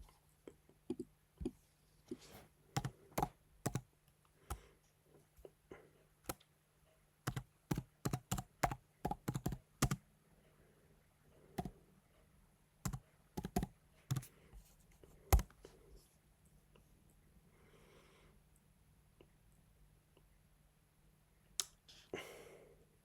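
Clattering bursts of typing on a computer keyboard, quick clustered keystrokes separated by pauses, close and dry in a quiet room with no voices.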